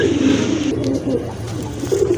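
A pair of large Lakkha pigeons coo in soft, throaty, continuous rolls close by, with no talk over the birds.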